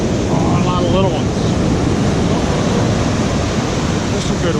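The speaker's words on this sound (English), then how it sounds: "Watch out for the wave." Steady broadband surf of waves breaking on a sandy beach, a continuous close wash with wind buffeting the microphone and a faint voice briefly under the roar.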